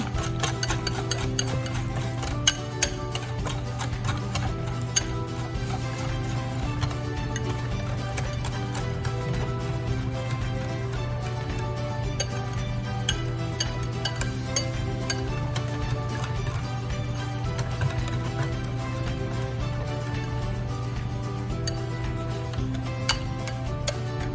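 Flour batter for eggplant croquettes being mixed in a bowl, a continuous run of quick, light clicking and tapping strokes over a constant low hum.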